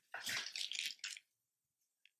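Mixed clear coat resin is free-poured for a mini pink geode, giving a soft splashing trickle for about a second, then a faint drip before quiet.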